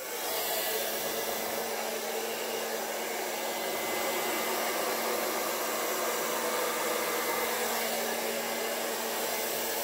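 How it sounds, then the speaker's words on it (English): Hair dryer on a low, cool setting blowing steadily over a solid copper Dutch paint pour, a constant loud broadband whoosh that holds unchanged throughout with no other sounds. "And I find no matter what blow dryer I use, it works."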